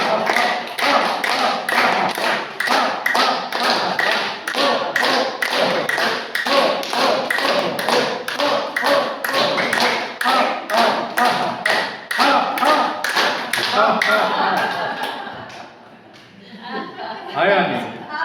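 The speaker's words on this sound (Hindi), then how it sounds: "ताली बजाएंगे।" Hands clapping at a yoga session, a steady rhythmic beat of many sharp claps that carries on for about fifteen seconds and then breaks off into scattered chuckles and laughter.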